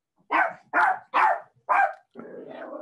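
A dog barks four times in a sharp, evenly spaced series, loud and close, then trails into a low growl at the end, with no voices over it.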